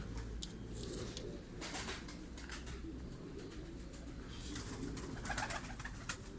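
Many pigeons coo continuously in a breeding loft used by pigeon breeders in Karacabey, Bursa. The soft, overlapping calls fill the enclosed space, with no talk.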